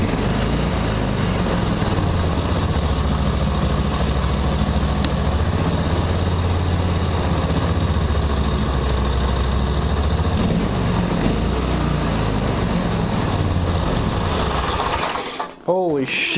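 A zero-turn mower engine runs at a steady, loud idle throughout, with a rough throbbing drone close by that only dips for a moment near the end.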